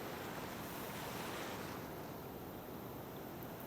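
Open ocean waves and gusting wind at sea, a continuous broad roar of surf and air rushing past, steady and fairly faint, with no distinct individual breakers or voices.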